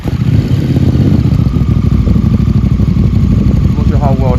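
A Honda Africa Twin motorcycle with an aftermarket full exhaust system runs with a deep, throaty rumble and rapid pulsing exhaust note, loud and close, with steady idle throughout.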